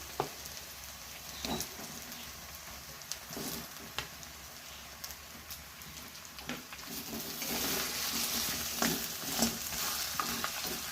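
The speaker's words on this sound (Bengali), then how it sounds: "এবার দিয়ে দিচ্ছি আদা রসুনের পেস্ট, দিয়ে দিচ্ছি এই মাছের মাথা ভাজা ভেজে রেখেছিলাম, সেটা দিয়ে দিচ্ছি" Fried rohu fish heads being stirred into hot oil with ginger garlic paste, a steady close sizzle with scraping spatula strokes, the frying growing louder and denser toward the end.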